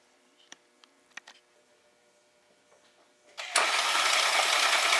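A 2013 BMW X1 with an N20 engine in a no-start condition: a few faint clicks, then a loud, steady whirring crank begins abruptly and continues without the engine catching.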